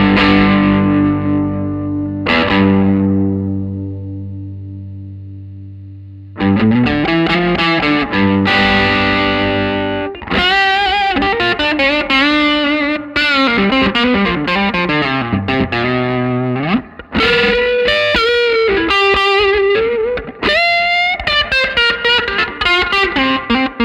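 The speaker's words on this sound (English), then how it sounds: "See what it sounds with a little overdrive." Electric guitar played through a G-Craft GC-1 amplifier with overdrive, starting with ringing sustained chords, then loud gritty riffs and sliding lead lines with distorted crunch.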